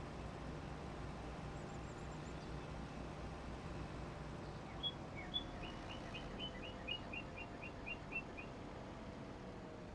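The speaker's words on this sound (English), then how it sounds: "It's still a very annoying bird, though." A bird sings in Farming Simulator 25 on the Pallegney map: a run of short, high, repeated chirps in a quick series, moderately clear over a steady low ambient hum of the farm.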